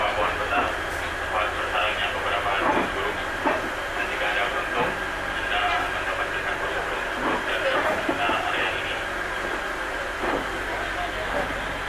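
Train cars rolling through the grounds of the Balai Yasa Yogyakarta locomotive workshop during an open house, a steady rumble with faint clickety-clack, under continuous talk and crowd noise.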